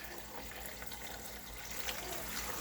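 Homemade chicken broth pours steadily through a strainer into a bowl, a continuous close liquid splash and trickle that swells slightly toward the end, with no talking.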